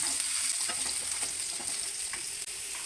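Steady, close sizzling of ingredients frying in a pan for coconut chutney curry, with faint stirring ticks and no talk.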